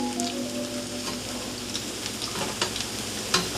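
Veggie burgers sizzle in oil in a pot, a soft continuous crackle with scattered pops and faint stirring clicks, close and fairly quiet.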